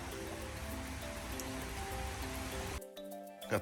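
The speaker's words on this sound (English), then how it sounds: "What a miserable rainy day it's become." Rain falls steadily on a dreary day, a constant soft hiss of drops on surfaces, moderately distant, cutting off abruptly near the end.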